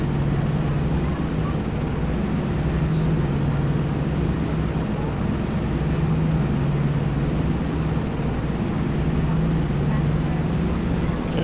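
Steady, loud drone of a Douglas DC-3's twin piston engines in flight in X-Plane 11, a continuous low hum with slow pulsing beat, heard alone without a break as the plane slows and descends toward landing.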